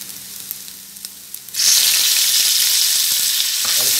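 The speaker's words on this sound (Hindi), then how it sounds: "इसमें हम चिकन शामिल करेंगे" Chicken pieces hit a hot pan for chow mein, bursting into a loud, sustained sizzle and crackle after a quiet stretch of stirring, continuing strongly to the end.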